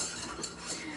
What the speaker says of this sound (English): you keep whisking, because that's how you're going to get a creamy base